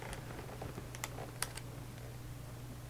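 Keys on an old pocket computer's small, slightly sticky keyboard are pressed several times, giving faint, sparse clicks and taps over a low steady hum.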